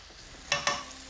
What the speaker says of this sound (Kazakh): Ал тауық еті қуырылып жатқан кезде